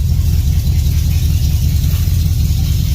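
A truck engine idles as it warms toward operating temperature, with electric cooling fans newly fitted. The rumble is loud, close and steady throughout, with no voices.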